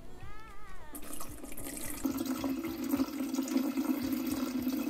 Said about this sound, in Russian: Мы с вами бак наливаем в воду.